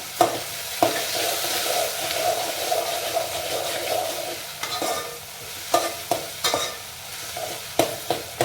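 Green chilies frying in oil in a pan, a steady close sizzle with periodic scraping stirs and clinks of a spoon against the pan.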